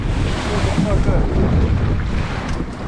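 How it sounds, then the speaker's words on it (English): Offshore ocean waves slap and wash against a fishing boat during kite fishing, a loud, continuous roar of water churning with gusting wind buffeting the microphone. "We're taking waves."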